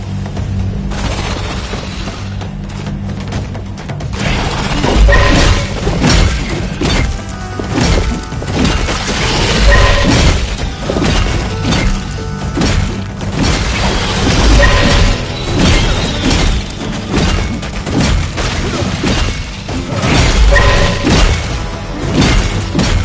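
Heavy combat impacts from the video game Atlas Fallen, a dense run of loud shattering crashes and booming smashes with splintering debris over a continuous game score, hits recurring every few seconds throughout.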